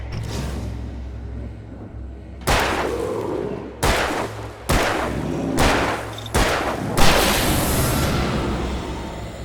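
Gunshots in the video game Alan Wake Remastered, about six loud, sharp reports spaced irregularly over several seconds, each with a short echoing tail and a low steady ambient hum between shots.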